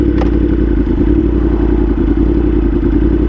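Yamaha R1 sport motorcycle, formerly an abused track bike, running close and loud with a steady low rumbling idle and light mechanical clatter after a brief start-up rasp.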